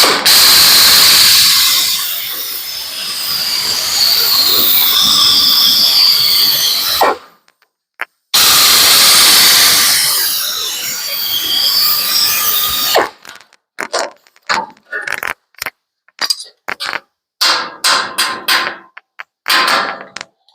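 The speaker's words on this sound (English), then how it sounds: "I've got my pneumatic shears" Pneumatic air shears cut sheet metal for handmade rear quarter panels on a 1935 Ford coupe. A loud, harsh hissing squeal runs in two long passes, then breaks into short, choppy bursts of cutting and air.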